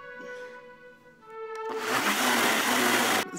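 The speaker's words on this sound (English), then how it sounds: "the blender sounds like it's having some trouble." A blender hums with a steady tone, then surges into a loud, rough grinding roar that labors for over a second before cutting off.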